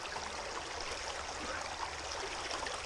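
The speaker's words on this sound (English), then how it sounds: "Water coming in." Water flowing steadily at Murrays Corner creek, a continuous broadband rushing wash at moderate level with no talk over it.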